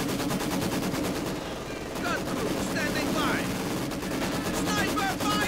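Maxim machine gun fire in a Company of Heroes 2 match, dense sustained bursts of automatic gunfire with overlapping shots, battle noise and a commentator talking over it throughout.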